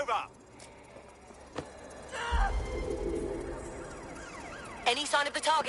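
An ambulance siren wails in the video game Watch Dogs Legion, its rising and falling tone fairly faint beneath game ambience and voices.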